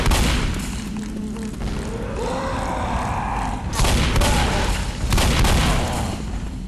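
Bursts of gunfire and deep booms in a military campaign video game, against a tank, over a constant loud rumble, with heavier volleys near the end and faint talk at moments.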